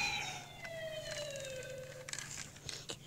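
A police patrol car siren wails in a descending sweep with harmonics, fairly close, at the scene of a road accident, with traffic noise and clattering bursts near the end.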